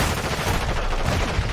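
Video game gunfire, a loud, close rattle of rapid automatic shots packed tightly together for a short burst, with no talk.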